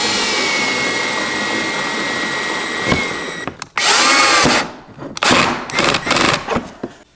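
Power tool driving screws into a Tesla Model Y Juniper performance body kit: a long steady whir, then several short loud bursts of drilling with pauses between, close by and without talking.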